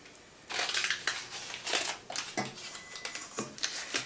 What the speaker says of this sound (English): Then I'm going to toss them into this pan and pop them on the stove.